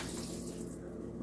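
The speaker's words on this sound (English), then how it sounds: "I'm going to add some water. I'm going to do 6 cups and see what I think." Water pouring from a tap into a pot for ham and bean soup, a continuous gushing splash that thins slightly toward the end, close and steady with no talk.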